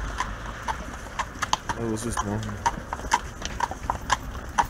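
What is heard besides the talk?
horse-drawn Fiaker carriage horses' hooves clip-clopping on road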